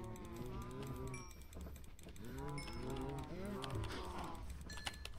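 Minecraft cows in a farm pen, making several drawn-out, overlapping moos that rise and fall, fairly close, with faint background noise.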